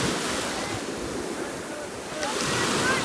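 Sea waves and a strong current off San Antonio, Zambales at night give a continuous broad wash of surf and wind noise, steady and close.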